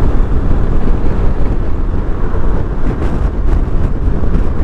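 Strong wind roars across the microphone while riding a 2018/2019 Forza 300 scooter, a loud, constant low rumble with gusty swells and no speech.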